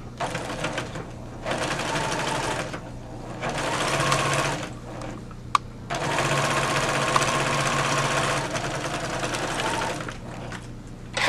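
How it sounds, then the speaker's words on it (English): Sewing machine stitching a jacket cuff into a circle, running in several bursts of rapid, steady mechanical whirring separated by short pauses, close and loud. "So now I've stitched the cuff into a circle."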